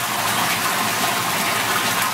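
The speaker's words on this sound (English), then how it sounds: "we've got both oil and water going in at the same time" Oil and water pumped together through a pipe into a covered container make a dense, continuous gushing roar, loud and steady throughout with no pauses or voices.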